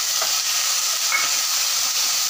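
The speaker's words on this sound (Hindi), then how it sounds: "यहाँ पे हमने सब्जियों को सोटे कर लिया है ज़्यादा पकाना नहीं है" Vegetables sauté in a hot pan with soy sauce for mushroom Manchurian, giving a steady, close sizzle with faint stirring scrapes and no talk.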